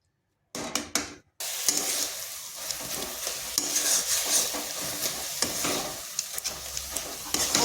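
Carrot filling for patisapta stirred in a pan until dry: a couple of sharp clanks, then a continuous sizzle with scraping spoon strokes close by and no talk.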